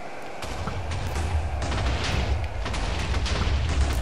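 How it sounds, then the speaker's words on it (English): A dense, sustained rumble of TNT explosions from a TNT cannon in Minecraft rolls on for several seconds, with deep low-end booms and crackling debris layered throughout, loud and continuous. "That place going boom. Reverse TNT cannon"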